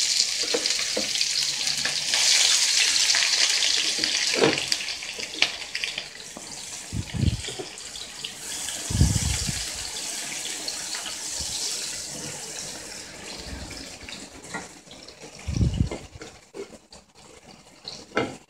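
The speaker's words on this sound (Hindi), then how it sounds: "घी जो है गर्म हो चुका है। इसमें हम प्याज ऐड कर रहे हैं।" Chopped onions, about three medium ones, fry in hot ghee with a steady, loud hiss and crackle, broken by a few dull thumps of stirring.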